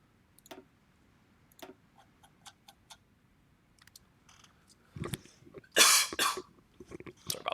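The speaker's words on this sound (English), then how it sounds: "Sorry about the cough." A person coughs a few times in quick succession, close and fairly loud, after a quiet stretch of soft clicks.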